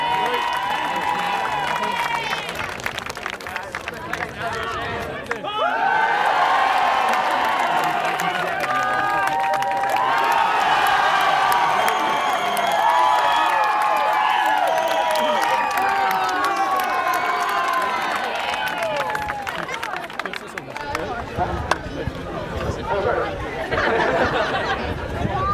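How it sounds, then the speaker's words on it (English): A crowd at a Carbery Junior A Football Championship Final gives loud, sustained applause and cheers for the team physio, with chatter and excited voices mixed through the clapping. "a massive round of applause for Martin Hockney"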